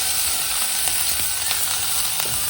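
Raw bamboo shoot frying in a pan in an Assamese home kitchen: a steady, loud, continuous sizzle with faint scraping ticks from stirring, no talk.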